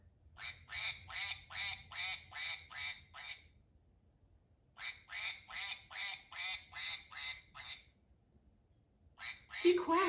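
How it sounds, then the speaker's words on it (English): A duck quacks in two quick bursts of about eight rapid quacks each, fairly close and clear, with a short pause between runs. "He quacks a lot."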